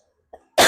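A single short cough, then a loud burst of harsh, throaty coughing close to the mic, with no talking.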